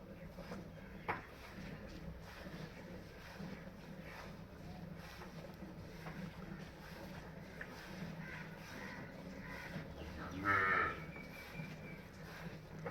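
A Cholistani Friesian cross cow and her calf moo over a steady farmyard hum, with one clearer, drawn-out call standing out near the end.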